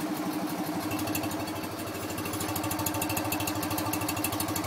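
A restored BMW R50 motorcycle engine idles steadily at close range, a continuous even throb with a fast regular pulse and no change in pace for several seconds, with no voices over it.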